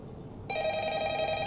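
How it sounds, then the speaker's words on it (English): A telephone in a video game rings with a steady, loud electronic trill that starts partway through after a quieter background and keeps going to the end. "answer the phone"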